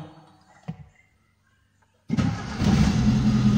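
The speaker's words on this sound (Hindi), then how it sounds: "तो आप दोबारा गाड़ी को स्टार्ट करते हैं।" A car engine starting after a check-engine-light reset: a faint click, then silence, then the starter catches and the engine fires up loud and settles into a steady idle.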